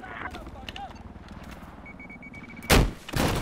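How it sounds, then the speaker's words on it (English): A tank firing in the Battlefield 4 video game, two loud booming blasts close together near the end, following quieter scattered gunfire and game noise with voices talking. "A tank just shot at me."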